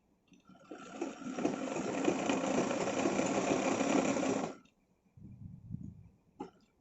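A sewing machine runs steadily for about four seconds as it stitches the seam of a chudi pant, loud and close. Short handling sounds follow after it stops.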